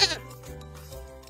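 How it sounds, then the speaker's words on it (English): A brief, fairly faint goat bleat, a single wavering call over a soft background. "G is for goat."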